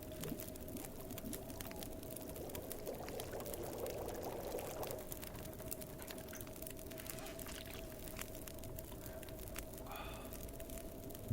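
Water being boiled over a fire in The Long Dark, a steady bubbling and pouring wash with a constant low hum, a brief swell of activity in the middle, and no voices.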